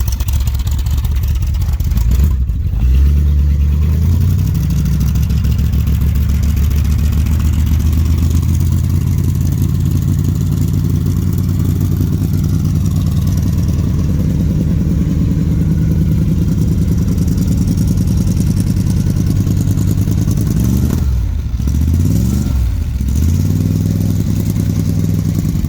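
A Dodge street van engine with custom side pipe exhaust runs at a loud, close, rumbling idle, rising in two short revs, one near the start and one near the end.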